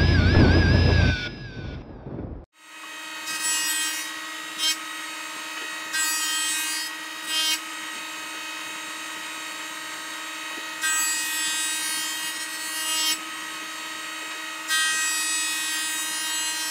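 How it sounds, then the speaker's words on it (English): Woodworking machines mill lumber for building electric guitars, a steady loud machine drone with a constant hum and repeated louder bursts as stock feeds through, starting after a brief loud opening passage. "Let's get the machines and start milling some wood."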